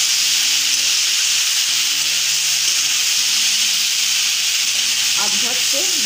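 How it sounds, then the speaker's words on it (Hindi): Okra with gram flour frying in a pan, a steady, loud broadband sizzle with some soft stirring sounds near the end. "अब झट से दो से तीन मिनट पका लेंगे भिंडी को"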